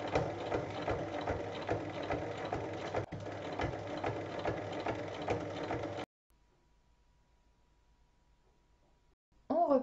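A sewing machine topstitches fabric with a fast, even, close mechanical chatter for about six seconds, then halts into near silence before a brief sound at the very end.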